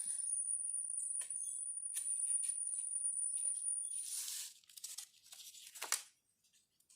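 Tape is torn and pressed down while assembling a windmill model, with a long continuous ripping stretch followed by several short, close crinkly tears and pats.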